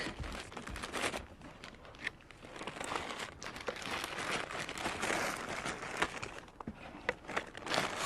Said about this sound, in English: That's why I'm using the plastic bag.